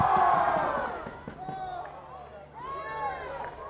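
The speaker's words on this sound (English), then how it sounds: "Crowd going up, making their opinion known." Spectators at a girls' 1st XI school hockey match between Clifton College and Millfield shouting and cheering in loud, overlapping calls that swell, dip and rise again, with voices mixed through the din.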